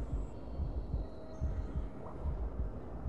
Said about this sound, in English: It is halfway at the moment and the heartbeat starts racing.